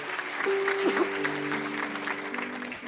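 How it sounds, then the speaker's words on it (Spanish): Congregation applause during a church sermon, a steady patter of clapping with sustained keyboard or organ tones ringing underneath. "Si quiere aplaudirle a él, apláudalo bien fuerte."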